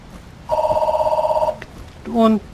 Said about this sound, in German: Und Telefon.